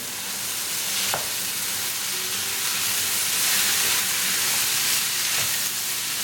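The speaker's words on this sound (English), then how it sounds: "I'm going to bring the beans, the French beans. Mix it well." French beans are stirred into cooking tomatoes and spices, producing a loud, steady frying sizzle close up with a couple of soft spoon knocks and scrapes.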